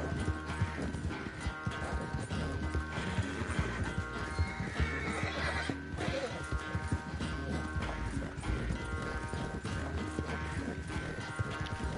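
In Red Dead Redemption 2, a horse whinnies and its hooves clip-clop in a busy, continuous mix of galloping beats, snorts and whinnies, steady and fairly close.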